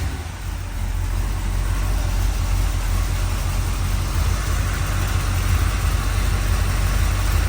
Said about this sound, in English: I mean, it fires right up even when cold.